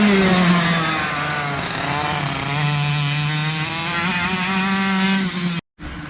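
A race car circles a track, its engine note rising and falling as it passes nearby, loud and continuous with shifting pitch before a brief cutout near the end.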